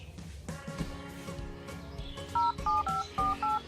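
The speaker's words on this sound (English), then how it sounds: "How to turn off the dial tone on Oppo" Keypad tones on an Oppo A57s phone: several short, evenly spaced dual-tone beeps from presses on the dialer, each clear and close, played over a quiet background music bed.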